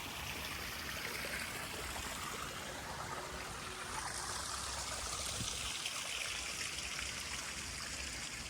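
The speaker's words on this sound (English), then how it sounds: "The sound of running water really has a way of melting the stress." Steady running water from a stream or water feature outside a house, a continuous close trickle and gurgle filling the scene with no talking over it.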